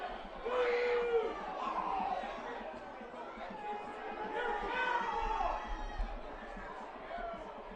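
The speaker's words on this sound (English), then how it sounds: "you can hear the boos from the home supporters here in Ashland" Home crowd at a high school football game in Ashland booing and jeering after a called-back completion, a murmuring mass of voices with rising drawn-out boos, moderately distant.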